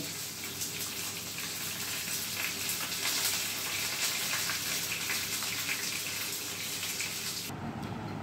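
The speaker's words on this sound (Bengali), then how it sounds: "এবার মাছটাকে উল্টে দিয়েছি অন্য দিকটাও ভালোভাবে ভেজে নেওয়ার জন্য।" Rava-coated pomfret fish frying in a pan, a steady soft sizzle and crackle of hot oil continuing evenly throughout, fairly quiet, with no talking.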